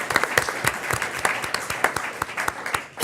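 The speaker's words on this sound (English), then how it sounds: "So let's give them one more round of applause for your accomplishments." Applause at a school board meeting: a room of people clap steadily, with sharp individual claps standing out close by over a dense, fairly loud patter that thins near the end.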